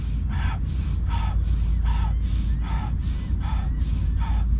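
Quick, rhythmic breathing exercise during a runners' warm-up: about ten sharp, evenly spaced breaths, close and clear over a low background rumble.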